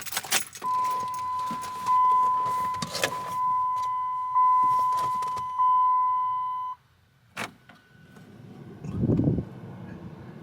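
Keys jangle loudly in bursts as a key goes into the ignition of a Dodge Ram, while a steady chime tone beeps in the cab, then a short clunk and a low rumble follow.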